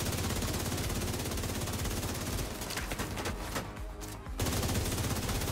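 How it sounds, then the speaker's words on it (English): Assault rifle fire in The Division 2 shooter, a dense, loud stream of rapid shots with a brief dip near the end before the volley resumes at full force, no voices. "So I'm going to start off with my assault rifle and then work to back to my SMG as I get closer."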